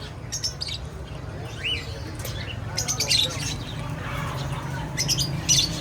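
A pair of large Alexandrine parakeets at a breeder's, giving repeated harsh squawks and sharp chirps in irregular bursts, close and fairly loud over a low steady background hum.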